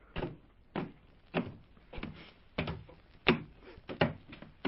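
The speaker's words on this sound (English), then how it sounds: "Well, the door's locked, Nayland." A locked door in an old radio drama is tried repeatedly, giving a steady series of about eight sharp knocks and rattles at roughly half-second intervals, close and distinct with no voices.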